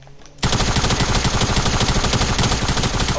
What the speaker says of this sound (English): I can hear that SMG.